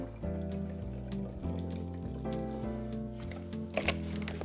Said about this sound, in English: 2 ounces of vodka, yeah, in our shaker